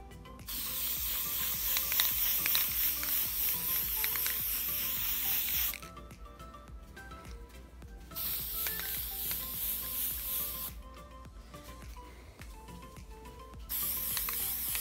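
Paint sprays from a can onto a scale model Audi TT Mk1 body in long hissing bursts of several seconds each, separated by short quiet gaps with faint clicks, heard close up.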